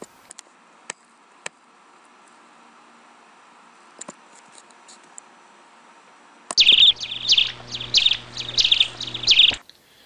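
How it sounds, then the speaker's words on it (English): Faint clicks and quiet hum, then a burst of bright, rapid bird chirps and tweets from a sound effect library, repeated for about three seconds near the end before cutting off abruptly. "I could add bird sounds to this scene"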